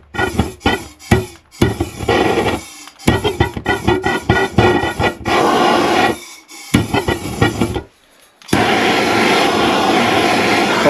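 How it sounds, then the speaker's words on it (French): A torch heats a pipe during replacement of a well-rite 86-gallon pressure tank, giving a loud roaring hiss cut into bursts by sharp stops, then a long steady blast at the end, close up. "Fait que là, je vais chauffer le tuyau, ça va faire du bruit."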